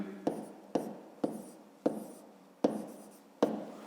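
A pen scratches across paper during a fifth-grade maths exercise, six short, crisp strokes at a fairly even pace, each starting sharply and trailing off, close and quiet with no talking.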